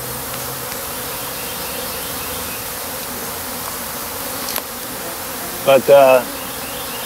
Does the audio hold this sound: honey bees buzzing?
yes